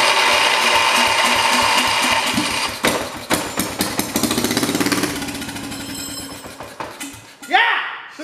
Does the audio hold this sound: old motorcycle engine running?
yes